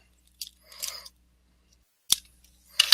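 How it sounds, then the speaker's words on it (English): Scissors cut open a comic book package in a quiet room, with a few short snips and crisp cutting strokes spaced apart by brief silences. "That's why I have scissors."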